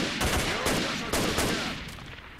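Automatic gunfire in S.T.A.L.K.E.R. Shadow of Chernobyl, with several sharp bursts of shots ringing out in quick, uneven succession, loud and fairly close, fading slightly toward the end.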